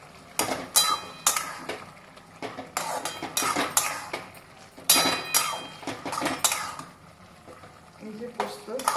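Poppy seed paste going into a pan of ridge gourd and potato, with repeated loud metal spoon clatters and scraping against the pan as it is stirred, over a faint background.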